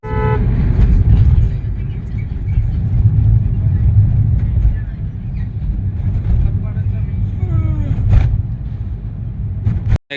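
A car engine drones steadily while driving, with a brief horn toot near the start and people talking in the background.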